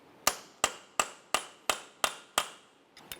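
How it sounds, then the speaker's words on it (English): Hammer striking a punch to separate the front axle from the wheel bearing on a 2005-2010 Chevy Cobalt, seven sharp metallic blows at an even rhythm, each ringing briefly, followed by two lighter taps. "using a hammer and punch, and we're going to go ahead and separate the axle from the wheel bearing."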